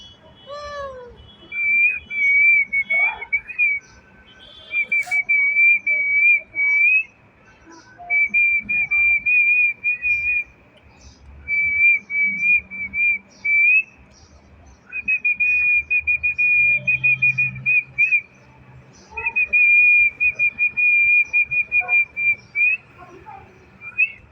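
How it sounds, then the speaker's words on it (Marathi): Someone whistles a steady, high tune in repeated short bursts with brief pauses between phrases, close and clear, no talking. "येते ना मला शिट्टी वाजवता"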